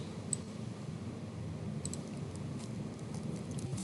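Keys tapped on a computer keyboard during a programming lecture, a few faint light clicks over a low steady room hum, quiet and sparse.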